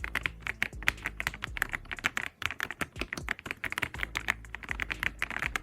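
Fast, continuous typing on an EpoMaker EA75, a 75% all-black mechanical keyboard with Reaper linear switches. It gives dense, close-up clacky keystrokes with a few deeper thocks mixed in.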